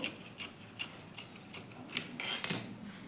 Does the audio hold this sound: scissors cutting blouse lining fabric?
yes